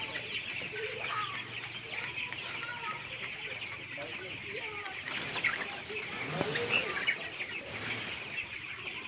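White broiler chickens cluck and chatter continuously in a dense flock, with occasional louder calls rising above the steady murmur.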